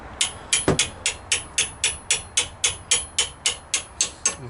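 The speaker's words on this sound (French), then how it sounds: "puis avec mon marteau" Sharp, regular hammer taps on a Renault Megane 3 RS brake assembly during a disc and pad change, about fourteen evenly spaced metallic strikes, close and clear with no talking.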